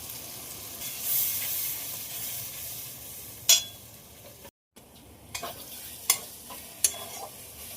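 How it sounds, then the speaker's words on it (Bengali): Ground spice paste with turmeric, salt and melted tomato frying in a pan for egg curry, a steady sizzle with sharp stirring scrapes and clicks of the spoon, heard up close without talk. "মশলা খুব ভালোভাবে ভাজা হয়ে গেছে"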